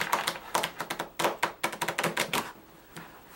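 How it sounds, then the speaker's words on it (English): A deck of playing cards being shuffled by hand, a rapid run of crisp riffling snaps in close bursts, loud and near, with no talking. "So I'm just gonna take a couple of these and shuffle them together here."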